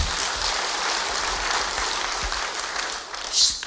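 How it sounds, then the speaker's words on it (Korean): A church congregation at a Friday evening service claps together in a sustained, dense round of hands, loud and steady, thinning slightly near the end with a brief louder burst. "여러분이 크리스천이시면 다 같이 박수를 치시기 바랍니다"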